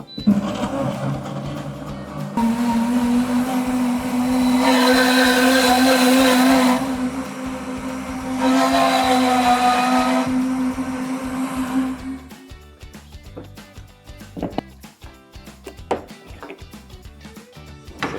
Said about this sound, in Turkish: Buradan milkshake yapacağız ve orta tuşa bir kere basıyoruz ve cihazımız çalışıyor.